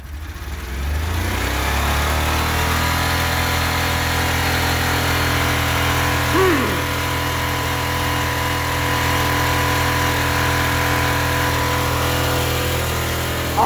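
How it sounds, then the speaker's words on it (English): Ford F150 pickup truck engine held at a steady high rev, a loud continuous drone with strong low harmonics that rises at the start and holds nearly level throughout, with no talking. "I rev it up."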